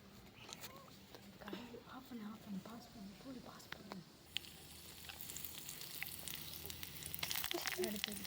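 Onions and curry leaves sizzle and hiss in hot oil in a home kitchen, a steady frying texture that swells louder in the second half, with a voice talking over the first part.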